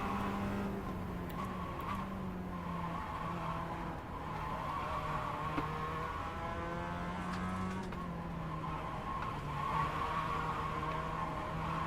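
Race cars in the iRacing sim run on track with a steady droning engine note and rising and falling revs, tires squealing at intervals, continuous and fairly loud with no talk.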